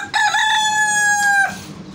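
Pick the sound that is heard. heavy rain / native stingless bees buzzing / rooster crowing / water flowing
rooster crowing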